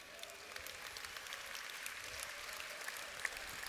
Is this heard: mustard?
no